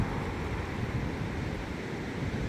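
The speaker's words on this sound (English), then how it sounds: "The waves and the wind" Steady rush of ocean waves with wind blowing across the microphone, a continuous broadband roar with no voices.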